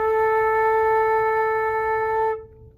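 A flute sustains a single steady A for about two and a half seconds, clear and close with a bright harmonic tone, then the note stops and only a faint room decay remains.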